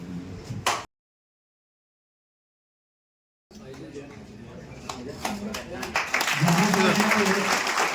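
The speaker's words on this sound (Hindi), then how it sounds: "जोरदार तालियां बजनी चाहिए।" Applause from the assembled crowd at a student honour and installation ceremony, starting after a brief cut to silence and building into louder, fuller clapping, with a voice speaking over it at first.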